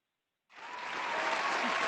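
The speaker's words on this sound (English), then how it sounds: "Applause." Applause breaks out at an annual awards meeting for a healthcare system, starting abruptly after silence and swelling quickly into steady, moderately loud clapping from a sizable audience.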